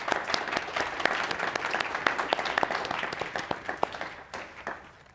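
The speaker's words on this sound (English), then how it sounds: "I feel like we ought to clap for everyone who's presented." An audience at a panel event on religious freedom claps in applause, a steady patter of many hands that thins out toward the end, with no voices.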